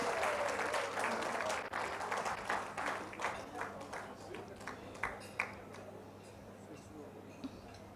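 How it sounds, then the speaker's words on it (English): A modest crowd at an awards banquet claps, loud at first and then thinning into scattered, fading claps with a few isolated taps near the end. "Let's give them all a round of applause"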